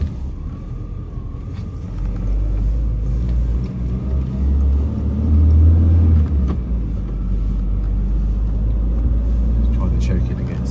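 A 1973 Citroen DS Super 5 engine idles with a steady low rumble, rising slightly in the middle as it revs a little, heard close and continuous.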